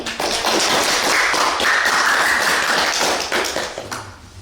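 A talk show studio audience applauds its two guests, a full, sustained wash of clapping that stays loud before tapering off near the end, with no voices over it.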